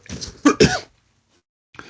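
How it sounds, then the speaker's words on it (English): A few close, harsh coughs in quick succession, then silence before a breath. "Sorry, I need to cough."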